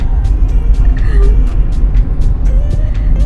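A Tamil Nadu government vehicle approaches on a hill road, its loud engine rumbling near and heavy under road noise, with a person talking over it.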